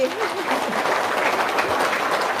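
Audience applause at a gathering, a dense, steady wash of clapping lasting throughout, with a voice briefly audible at the start.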